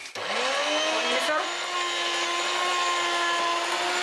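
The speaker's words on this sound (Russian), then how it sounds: "Я это делаю, перекручивая через мясорубку." An electric meat grinder mincing zucchini whirs up to speed and then runs with a steady, loud motor drone, close by.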